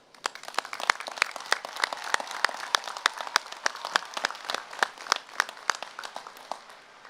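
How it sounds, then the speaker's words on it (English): Scattered clapping at a 2025 high school graduation ceremony for the graduating class, sharp individual claps from a modest crowd in an irregular patter, fairly close and steady throughout. "I would like to give a round of applause to the class of 2025 for graduating today."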